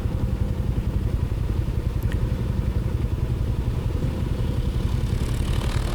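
A TVS Ronin motorcycle engine idles and putters close by in a traffic jam on a road near Kintamani and Mount Batur, a steady low throb with light mechanical clatter and other traffic faintly around it.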